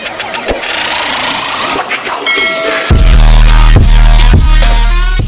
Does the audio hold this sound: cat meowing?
no